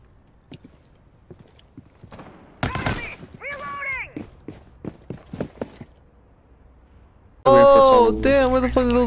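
Video game gunfire cracks in a sharp loud burst amid scattered impact clicks, with people talking and shouting over it.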